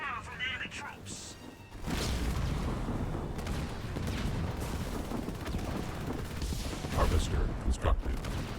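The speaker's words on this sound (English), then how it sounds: "We're under fire from enemy troops!" Enemy troop gunfire in Halo Wars 2 crackles as a dense, sustained burst of shots and thuds amid battle noise, under game announcer voices.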